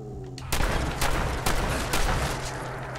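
A riot shotgun fires repeatedly in a VR sandbox game, four or five sharp, loud blasts spaced about half a second apart over a low steady hum.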